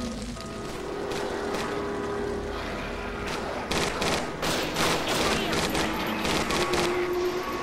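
Gunfire in the game Judge Dredd: Dredd Vs Death, bursts of rapid shots growing louder and denser in the second half over steady background game noise.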